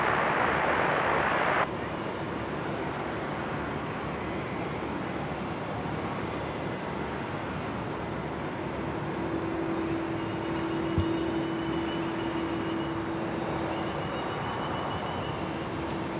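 An Embraer Phenom jet taking off from Brisbane airport, a steady broadband jet roar that holds at a constant level throughout, with a faint tonal whine joining partway through.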